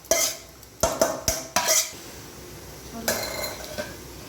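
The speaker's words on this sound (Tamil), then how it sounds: "இந்த தாளிப்பு எடுத்து நம்ம கொட்டிட்டு இருக்கோம்" A tempering made in sesame oil is poured from a pan into a karuvadu (dried fish) chutney, with a quick run of sharp metallic clanks and knocks. A softer scrape and clatter follows near the end. No one speaks.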